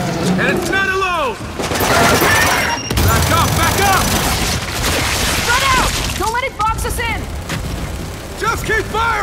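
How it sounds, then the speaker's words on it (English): Gunfire and heavy booms in the Gears of War 5 video game rattle continuously through a loud battle scene, with bursts of shots and impacts under shouting voices throughout. "Just keep firing!"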